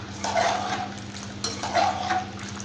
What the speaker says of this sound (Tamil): இப்போ வந்து நல்லா இந்த மாதிரி கலரி விட்டுடலாம்.